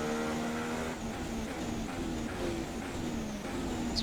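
A Formula 1 car in the F1 2016 racing game, at the German Grand Prix, holds a steady engine drone with gear-shift pitch sweeps as it warms its tyres, continuous and close throughout.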